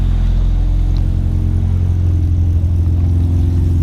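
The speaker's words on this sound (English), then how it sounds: "This is a cold start, custom 3-inch exhaust, MagnaFlow 3-inch race muffler." A Honda Civic with a K20 engine idles loud and close on a cold start through a custom 3-inch exhaust with a MagnaFlow race muffler, a steady low rumble that never lets up and has no talk over it.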